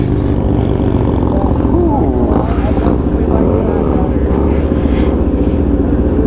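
A Suzuki DRZ motorcycle with a stunt setup revs hard through a couple of wheelies, its engine note swelling and dropping in loud, continuous bursts, with a voice talking over part of it.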